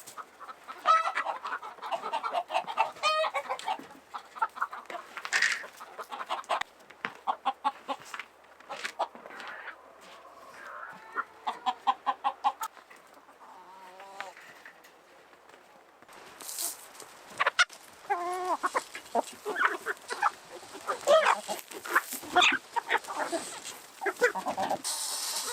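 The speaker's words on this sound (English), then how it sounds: "We have so many chickens in the coop, so we need to butcher." Chickens cluck and squawk in a coop, with many birds calling in irregular bursts, some near and loud, others softer, continuing throughout.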